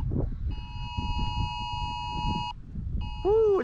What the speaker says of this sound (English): our phones are going off saying that we're in a tornado warning right now